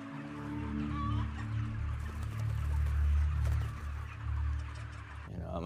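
Cage-free chickens cluck repeatedly close by, with a steady low hum of a poultry house running underneath.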